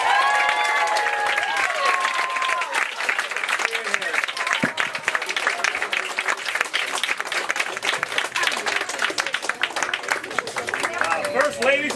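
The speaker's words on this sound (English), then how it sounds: "Can we get a big enthusiastic round of applause for Miss Whitebone and Miss Cohen?" A bookstore crowd at a high school poetry festival at the Brookline Booksmith breaks into long, enthusiastic applause with dense, steady clapping, and voices are briefly heard over the start and end.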